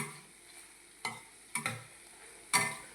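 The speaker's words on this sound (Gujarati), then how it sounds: "આ રીતે ડુંગળીને શેકતા રહેવાનું, સરખી પાકી જવા દેવાની બધી" Onions fry quietly over a low gas flame with a faint steady sizzle. A few distinct scraping strokes of a stirring spoon cut through, all close and soft, with no talking.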